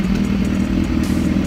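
A superbike motorcycle sets off on a ride with a steady, loud low engine rumble and some mechanical clatter throughout, close by and with no voices.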